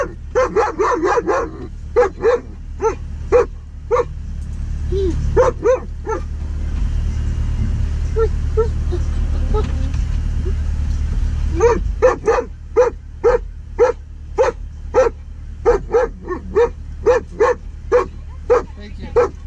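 Dogs inside a Jeep Grand Cherokee SRT bark in loud, rapid bursts that stop for a stretch, then resume in a steady string of close, sharp barks over the cabin hum, with people talking at moments.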